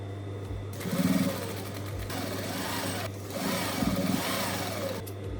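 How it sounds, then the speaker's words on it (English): A sewing machine runs close by, stitching a pinned thrifted garment in a steady whirring drone, speeding up in two brief louder bursts. "and now we're gonna sew."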